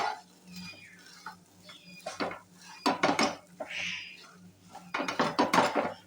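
Stuffed okra with ground peanut powder stir-fried Konkan village style, with repeated clattering spatula-on-pan scrapes and knocks in irregular bursts, close and fairly loud, with quieter gaps between.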